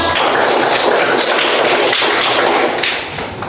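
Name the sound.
classroom applause for a student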